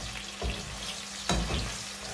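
Eggplant and raw banana pieces fry in hot oil, a continuous close sizzle with a couple of louder splashy bursts as the pieces are stirred.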